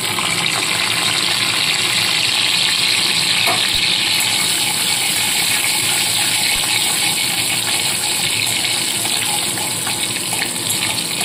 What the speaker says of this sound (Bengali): তেলটা গরম হয়ে গেছে, এবার দিয়ে দিলাম জিরে ফোড়ন।